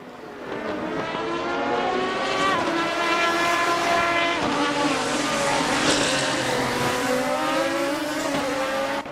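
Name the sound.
Lamborghini engine in the video game Assetto Corsa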